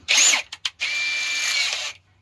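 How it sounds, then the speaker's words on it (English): A cheap power drill with its bit tightened in the chuck whirs in a short burst, then gives two brief blips and a steadier spin of over a second before stopping. "My complaint on that cheap old drill thing I'm using is the chuck loosens up all day long."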